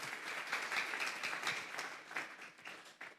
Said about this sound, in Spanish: Vamos a darle un fuerte aplauso al Espíritu Santo esta tarde.